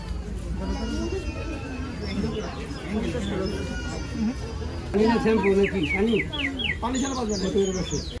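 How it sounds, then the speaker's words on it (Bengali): Parrots calling overhead at an outdoor tree fair, bright chirps and squawks repeating over the murmur of people talking nearby, growing louder and busier in the later seconds. "এগুলা কিন্তু কোনো কাকচিল না, এগুলা সব টিয়া।"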